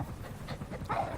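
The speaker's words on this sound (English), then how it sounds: "Following orders like a real diamond dog." A dog pants in the video game Metal Gear Solid V, quick rhythmic breaths close up for a moment with no other sound.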